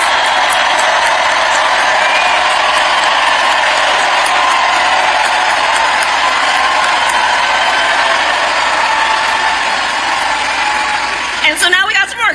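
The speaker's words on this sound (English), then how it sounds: "High energy crowd." A high-energy political rally crowd in Atlanta cheers and applauds in a loud, sustained roar that fills the whole stretch, with speech heard over the noise near the end.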